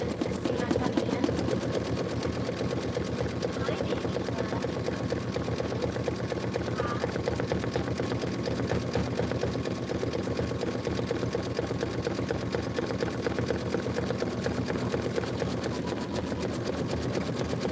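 Kimberbell embroidery machine stitching out a design, a rapid continuous mechanical chatter of needle strokes running steadily and close throughout, with no talking heard.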